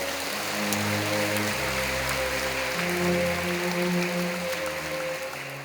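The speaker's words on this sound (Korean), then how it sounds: "여러분 그 박수로 환영하시지요." A church congregation at a Sunday worship service claps in welcome right after a prayer, a steady rain-like patter of many hands over sustained organ-like chords that shift pitch beneath it.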